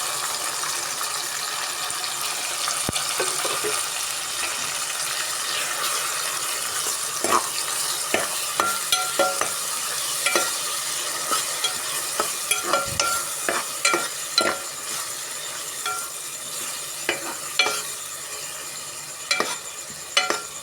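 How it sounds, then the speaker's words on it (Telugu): Spice masala sizzles in hot oil for a fish curry (chepala pulusu), a steady frying hiss broken by scattered clicks and scrapes as a spoon stirs the pan. "మసాలా అంతా ఆయిల్లో వేగాలి"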